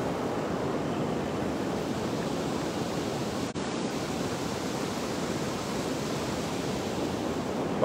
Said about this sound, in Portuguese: Mas ainda assim continua muito forte aí a correnteza.